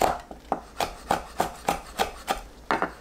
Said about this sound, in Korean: 청양고추 1개, 홍고추 1개를 반 가르고 작게 썰어주세요.